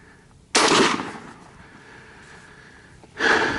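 A Japanese Arisaka Type 38 rifle fires two loud sharp shots about three seconds apart, each followed by a short fading echo outdoors.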